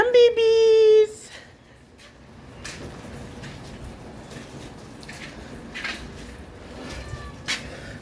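Cats called for food meow: a loud, clear, drawn-out meow opens the clip indoors, then fainter scattered meows and household clatter follow, with a person speaking softly now and then.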